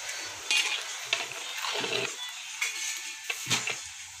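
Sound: mutton mixed with spices in a pot

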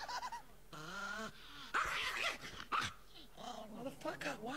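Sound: small dog growling and barking

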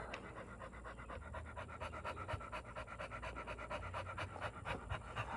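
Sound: dog panting

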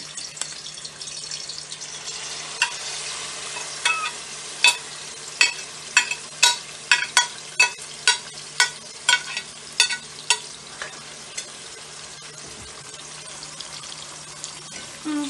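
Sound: dumplings frying in a pan

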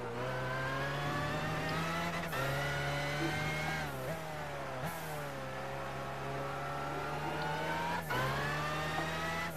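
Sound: BMW McLaren F1 GTR race car engine accelerating, Gran Turismo 5 video game

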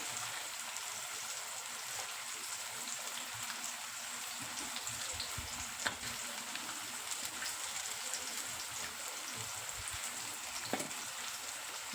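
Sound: onion and tomato sautéing in cooking pot

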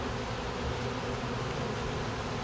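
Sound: bees buzzing around a hive

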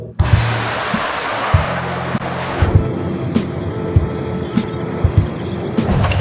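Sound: water pouring down in a spa shower room

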